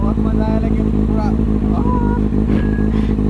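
A motorcycle rides fast on a long highway trip, its engine a loud, steady drone throughout with wind rumble, while people talk over it.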